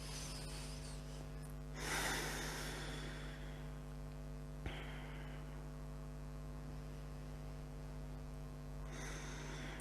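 Slow, breathy inhales and exhales during yoga relaxation, faint and close against a steady electrical hum, with two soft breath swells several seconds apart.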